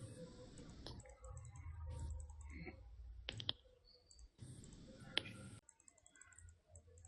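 A computer mouse clicks during image editing in Photoshop: a handful of sharp, isolated clicks spaced irregularly over quiet room tone.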